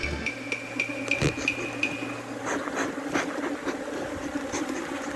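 Bees buzz around an open hive at an apiary in Trinidad, a soft continuous drone mixed with taps and knocks of hive parts being handled nearby.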